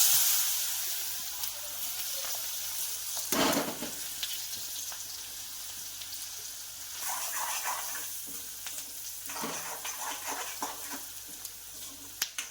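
Onions frying in oil with cumin and asafoetida, a steady close hiss and sizzle with occasional stirring scrapes and bursts of crackle, fairly quiet and without voices.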